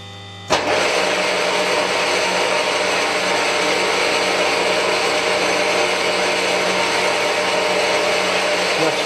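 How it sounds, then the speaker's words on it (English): A machine spindle spins up with a coolant pump running while threading a BSP coolant pipe adapter: a sudden start followed by a loud, steady whirring hum with constant broadband noise throughout. "You need to have the spindle turning before the coolant pump runs."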